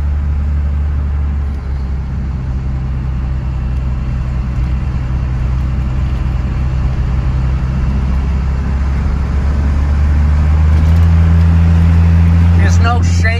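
Engine drone of a 1993 Dodge Ram W250 4WD pickup cruising a bumpy back road, a steady low rumble with the pitch stepping up near the end, under someone talking.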